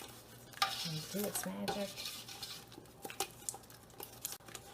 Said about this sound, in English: We're just going to give it a stir